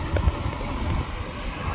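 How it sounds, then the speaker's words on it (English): A Ryanair plane on the runway at Manchester Airport gives off a steady, fairly loud jet engine roar, a brief continuous rumble with no talk over it. "It's a good old Ryanair."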